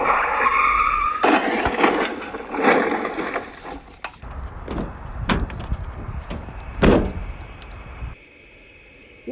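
A truck skids in a video game, with loud tire screeching and scraping bursts followed by several sharp knocks and thumps, ending in a sudden drop to quiet hum.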